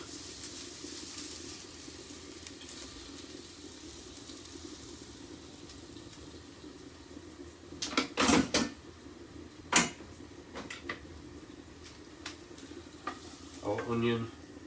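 Onion and pepper frying in a pan, with a steady low sizzle throughout, broken by a few sharp clatters and utensil knocks near the middle and a burst of louder stirring at the end.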